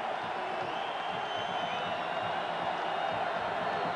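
Sellout crowd at a 2000 college football stadium game, Texas Tech against top-ranked Oklahoma, roaring in a steady, dense wash of cheering and crowd noise with no breaks, loud and continuous throughout.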